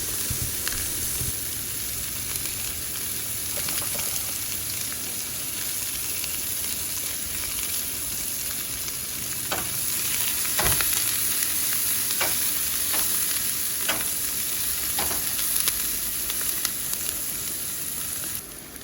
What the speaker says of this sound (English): the celery and onions I put in a pan with a bit of oil and just cook them so they're translucent